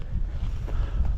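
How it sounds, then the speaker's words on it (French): Strong wind buffets across a high open plateau in the Sainte-Baume massif at the Plan des Vaches, a steady low roar of gusts pressing on the microphone, close and loud with no voices. "Et il y a ce putain de vent là."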